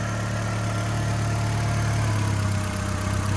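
A VW Jetta Mk4 1.8T engine running rough with many components unhooked, a steady close idle hum with a low droning tone that shifts slightly partway through.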